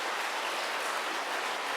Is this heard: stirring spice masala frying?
no